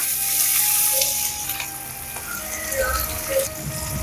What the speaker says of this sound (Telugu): ఆయిల్ వేడైన తర్వాత ఆనియన్స్ వేస్తున్నా